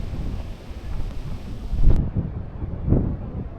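Blustery wind in Tagaytay, Philippines, buffeting the microphone in low, rumbling gusts, loud and continuous, with no voices.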